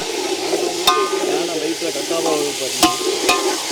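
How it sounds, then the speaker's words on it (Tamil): Steady crackling sizzle of hot oil in a pot, with a few sharp clinks of a utensil against metal cutting through. "எண்ணெய் நல்லா கொதிக்குது"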